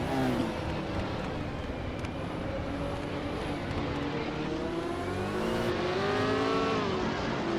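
Race cars in a racing video game, including a vintage Dodge Dart, with a steady roar of several engines whining and shifting pitch as they run together in a pack, continuous and fairly loud.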